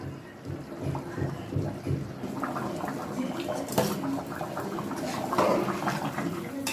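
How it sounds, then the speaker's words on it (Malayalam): Mutton curry coming to a boil in a pot, bubbling and gurgling that grows busier over several seconds, with wet pops and splutters rising and falling. "നന്നായിട്ടൊന്ന് തിളക്കട്ടെ"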